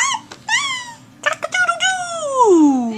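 A child's high, wavering voice imitates a rooster's crow, rising in a long drawn-out call that slides downward at the end, with short vocal bursts before it.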